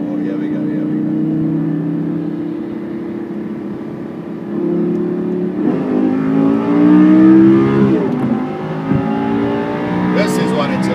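A Lamborghini Superleggera engine drones steadily and then climbs into a loud, rising roar under hard acceleration, close and dominant, with someone talking over it.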